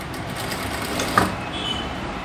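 A sewing machine stitches a quarter-inch seam on a blouse, giving a steady, continuous mechanical whirr close by with one brief clack partway through and no talking.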